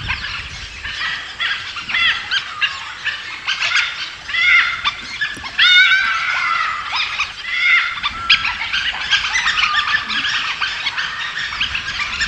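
A pack of wild dogs fights over territory, with chirping, whining calls and yelps from many animals, busy and fairly close, continuing the whole time.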